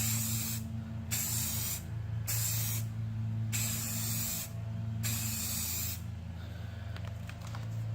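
Spray paint on a Savage Axis rifle, an aerosol can hissing in several steady bursts with short pauses between, close and clear, no speech over it.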